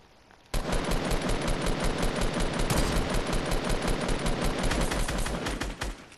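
Rapid automatic gunfire in a shooter video game, a dense unbroken burst of shots that starts abruptly and keeps hammering loudly for several seconds before trailing off near the end.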